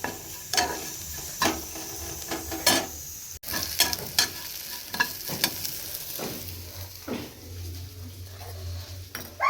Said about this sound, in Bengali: ফুলকপি বিনস গাজর এগুলো সব ভেজে নিচ্ছি